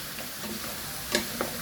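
Chicken tinola stirred in a pot, a soft steady sizzle with a few light spoon taps and scrapes, close and fairly quiet, with no talk.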